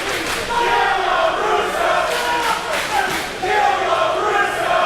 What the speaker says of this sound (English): And the chants begin, showing just how biased this crowd is